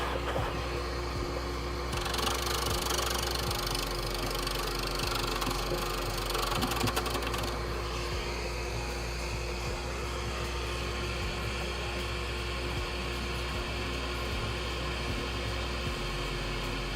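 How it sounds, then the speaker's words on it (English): A steady vacuum roar runs throughout, with faint repetitive clicks or knocks and a brief burst of brighter hiss early on. "I can hear the vacuum sucking through"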